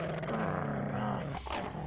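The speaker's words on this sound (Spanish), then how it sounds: "¿Qué hacemos con el perro, compadre?" Low, steady growling from a dog in the horror game Sonic.EXE Spirits of Hell, rumbling continuously for a couple of seconds beneath a droning game soundscape, with a brief sharper swell near the end.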